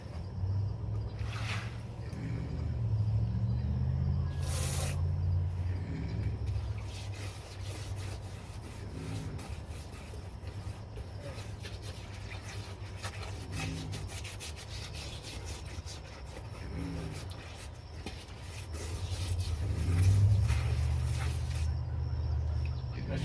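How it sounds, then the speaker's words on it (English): A brush scrubs out muddy containers on a homestead in repeated rough, rasping strokes, close and moderately loud, with a low rumble underneath. "I scrub these out with a brush about every other day or more"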